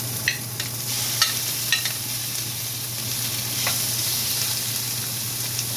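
Meat goes into a hot pan with tomatoes for a bean sprout stir fry, giving a steady loud sizzle with scattered sharp clicks and scrapes of stirring, no voices.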